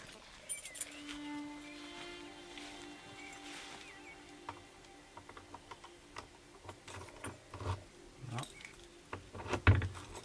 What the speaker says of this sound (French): il faut qu'on trouve la clé parmi tout ce trousseau là